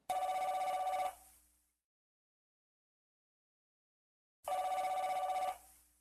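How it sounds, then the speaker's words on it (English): Old cordless phone ringing on an end table, two loud electronic ring bursts about a second long separated by several seconds of silence, with no talk. "He lowered his iPhone and stared at the old cordless phone as it rang on the end table."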